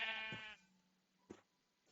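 A sheep in the Minecraft-style game Hungry World gives one clear, close bleat, followed a moment later by a short, fainter second call against a quiet background.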